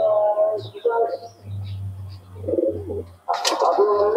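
Pigeons coo in steady low murmurs from a Pakistani Kaldoma or teddy breed loft at dusk, the soft throaty calls running continuously at close range, with a brief brighter burst of sound near the end.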